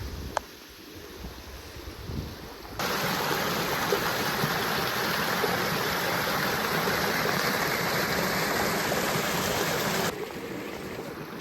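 A stream flows through the land on the Cornwall coast, its steady broadband rush filling the scene, with wind buffeting the microphone and a slightly louder middle stretch.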